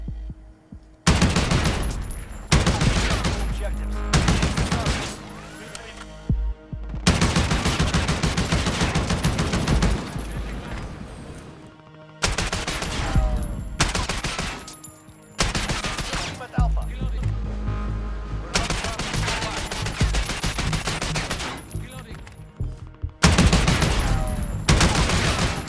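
Bursts of automatic fire from the Oden rifle in the Modern Warfare beta video game, loud repeated volleys separated by short silent gaps, with no talking.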